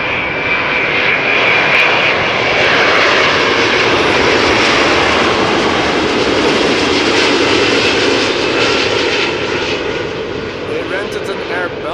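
Brussels Airlines Airbus A330 jet at Amsterdam Schiphol, a loud, sustained engine roar close by that swells and then eases slightly toward the end.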